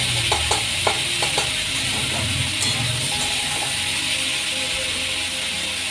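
Onions fry in a pan, a soft sizzle under quick clinking stirs and scrapes of a spoon against the metal early on, then a steadier low hiss, close by.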